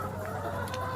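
Laying hens in a tall poultry house, about five metres high, cluck steadily as a dense, continuous flock chorus under a constant mechanical hum.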